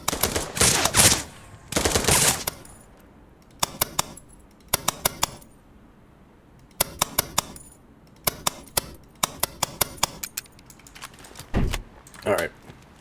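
Gunfire in the retro shooter video game Dagger Directive, bullets fired through wood: loud sharp shots in bursts and single cracks spread across the stretch, with a constant low game background underneath.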